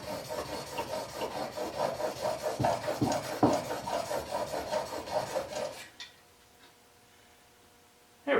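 A plane blade being honed on a 1,000 grit sharpening stone gives a steady, rhythmic rasping scrape of repeated strokes for about six seconds, close and fairly loud, then stops into near silence.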